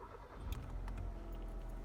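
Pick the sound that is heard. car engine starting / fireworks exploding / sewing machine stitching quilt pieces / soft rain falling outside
car engine starting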